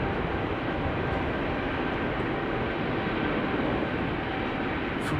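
An aircraft taxiing at Amsterdam Schiphol Airport gives off a steady, broad engine roar at moderate distance, holding constant throughout without voices.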